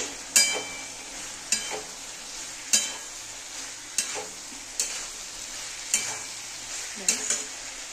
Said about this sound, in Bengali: মশলাটা কষানো হয়ে গেছে, এবার আমি সয়াবিন আলুগুলো দিয়ে দিচ্ছি। একটু নেড়ে দেব।